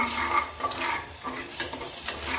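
Turmeric-and-salt seasoned mixture stirred and sautéed in a pan, a steady sizzle with scraping spoon strokes throughout, close and moderately loud, no talking.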